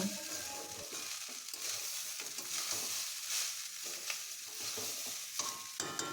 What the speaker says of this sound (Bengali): ভেজে রেখেছিলাম একটা ডিম ডিমটাও এবার দিয়ে দিলাম দিয়ে ভালো করে ভাজা ভাজা করব।